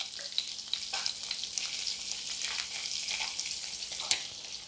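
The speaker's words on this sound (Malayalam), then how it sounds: "ഇനി പുളിശ്ശേരിയിലേക്ക് ഈ കടുക് താളിച്ചൊഴിക്കാം." Hot mustard-seed tempering with curry leaves hits a cucumber moru curry, a soft continuous sizzle and crackle with light spattering pops and one sharper burst near the end, heard alone without voices.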